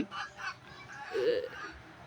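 Free-range country chickens cluck and squawk over a short stretch while being fed rice, sounding close but fairly soft, with a faint murmur of background noise.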